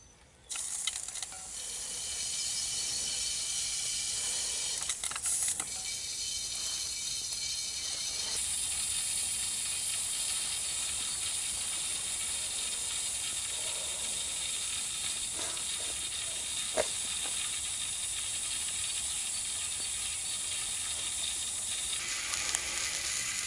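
Water heating in a Bundeswehr mess tin over a small DIY hobo stove, giving a steady close hiss and faint sizzle with occasional small ticks and pops throughout, no talk.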